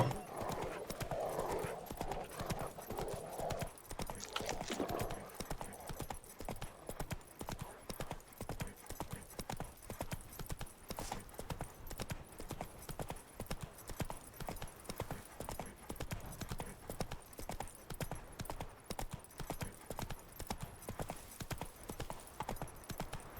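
Roach, Geralt's horse in The Witcher 3, galloping hard with a rapid, relentless drumming of hoofbeats that runs unbroken and loud from start to finish, with a snort near the beginning.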